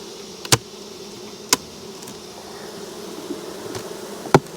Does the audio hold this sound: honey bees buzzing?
yes